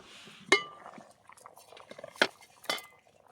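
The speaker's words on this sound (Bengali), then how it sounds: "ঢাকনাটা প্রথমে খুলে নেব" A lid is lifted off a pot of simmering khesari dal, giving a sharp metallic clink followed by two more clinks of metal on metal, set close and clear against a quiet kitchen.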